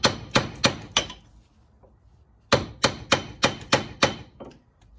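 Metal hammer blows on a 1/2 inch extension to knock loose the driver side CV axle of a Mazda3, sharp ringing strikes in two quick rhythmic series of four and six, close and loud, with no talk.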